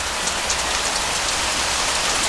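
Steady, dense rain pours down without pause, a continuous even hiss of drops hitting surfaces, loud and close with no voices.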